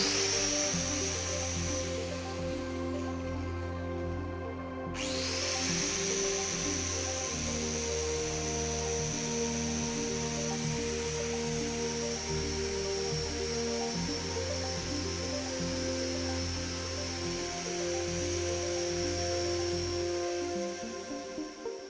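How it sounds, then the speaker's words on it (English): An 800-watt angle grinder runs continuously with a loud, high-pitched whine and dense harmonic drone; the pitch jumps upward once early on as it spins up, then holds steady to the end. "We're also now going to plug in this 800-watt angle grinder."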